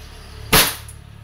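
A WE airsoft Glock 34 Gen 4 pistol fires a single sharp, close shot, a brief loud snap that fades quickly into a quiet room.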